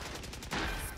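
Rapid bursts of gunfire in Valorant pound a wall in a dense, continuous volley with no pauses, loud and close.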